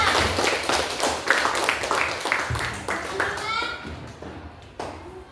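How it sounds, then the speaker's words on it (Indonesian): A class of students gives a round of applause for a presenting student group, sharp, rhythmic claps ringing out near and clear, thinning as young voices begin talking over the last few claps. "Berikan tepuk tangan untuk kelompok 4"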